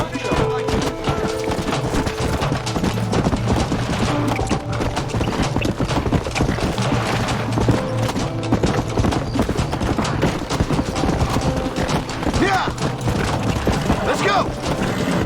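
Several horses' hooves clip-clopping in Red Dead Redemption, a dense, continuous clatter of hoofbeats mixed with gunfire-like cracks and other game noise, with voices talking over it throughout.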